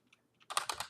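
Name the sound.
typing on a computer keyboard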